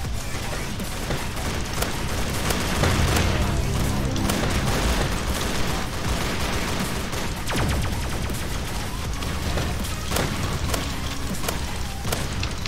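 Sniper fire and other gunshots in a Roblox game ring out as a dense, continuous barrage of loud shots and booms blended with game noise, with sharp cracks standing out near the middle and end.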